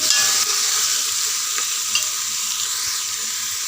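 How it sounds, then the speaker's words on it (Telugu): Bottle gourd pieces with turmeric stirred in a pressure cooker, making a bright continuous frying hiss with a few soft spoon scrapes, loud and close, no talking. "ఒక స్పూన్ పసుపు వేసి ఇలా కలుపుకొని సొరకాయ ముక్కలు కాసేపు మగ్గనివ్వాలండి"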